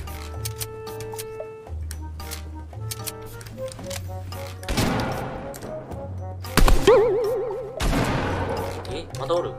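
Sniper rifle shots in Fortnite gameplay, sharp broadband cracks standing out from game music and effects, with a couple of louder blasts late in the clip.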